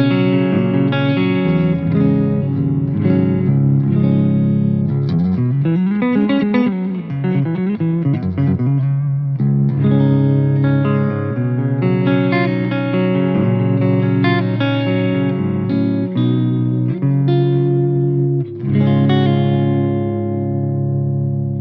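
A clean, undistorted electric guitar through a PRS MT15 tube amp plays sustained chords and picked notes with light reverb, full and warm, playing alone without talk.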